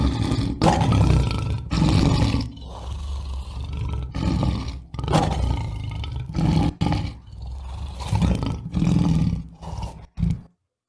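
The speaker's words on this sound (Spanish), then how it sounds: "esos rugidos de los leones, que no fue solo uno, eran varios" Several lions roar in deep, powerful bursts, one after another, with brief pauses between them. The roars are loud and close and ring out alone, ending abruptly.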